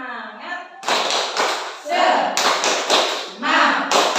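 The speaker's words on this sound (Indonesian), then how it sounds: "kita tepuk semangat dulu" A group of women at a school teachers' gathering doing a tepuk semangat clapping chant, sharp rhythmic bursts of claps in patterned sets alternating with chanted voices.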